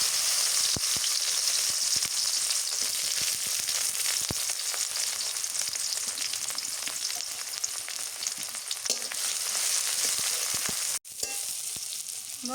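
Bay leaf, whole spices (cloves, cinnamon, cardamom) and chopped onion fry in hot oil with a steady, close crackling sizzle, punctuated by sharper pops and a brief clatter near the end.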